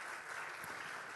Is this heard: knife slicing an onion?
no